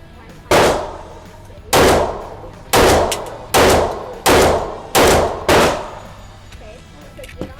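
A Rock Island Armory M1911 A1 10mm pistol fires a rapid string of loud, sharp shots under a second apart, each crack followed by a short echoing decay, close and forceful.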